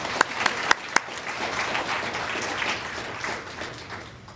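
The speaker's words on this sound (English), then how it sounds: "So I think we really need a round of applause for that." A few sharp, close individual claps start off, then steady audience applause fills the room at a high school induction ceremony before gradually easing.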